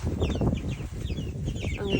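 Cornish Cross chickens cluck close by in a brief, busy flurry of overlapping calls, with a low rustle underneath and no voices.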